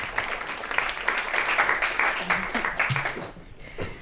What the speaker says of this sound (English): let's have a round of applause again for Sarah and for Alan